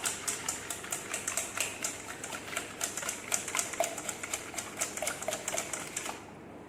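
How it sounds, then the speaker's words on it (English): Eggs, whites and yolks together, whisked by hand side to side in a bowl, giving a rapid, steady run of close, crisp clicking taps with no talking. "So back and forth for whisking. Side to side, not around and around, side to side is better."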